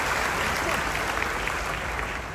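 A comedy club crowd claps during a stand-up show with crowd work, making a loud, dense wash of applause that holds steady for a couple of seconds.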